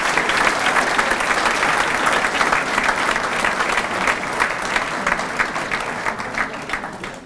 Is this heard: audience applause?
yes